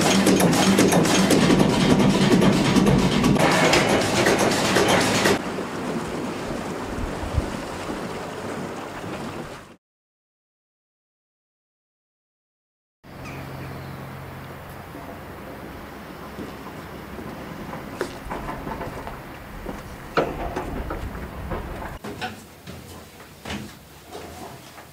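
A 1939 Imob La Roche engine runs in the engine room of the Hendrika, a steady loud mechanical drone that cuts out to silence for a few seconds, then resumes with clanks and knocks over the running hum.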